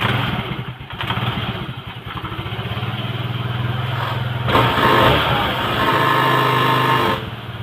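A Honda Vario scooter engine cranks and catches after its battery is charged, then idles with a steady putter, briefly revving louder before settling back.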